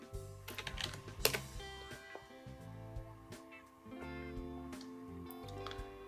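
Quiet bursts of computer keyboard typing tap along near the mic while a search term is entered, sitting under a faint steady hum with no voices.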